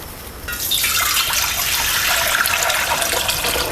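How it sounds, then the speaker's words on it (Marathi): Water from a jug splashes steadily into a pot set on a wood-fired stove, a continuous close pour lasting a few seconds. "त्यामध्ये ना आपल्याला एक तांब्यावर पाणी घालायचं आहे"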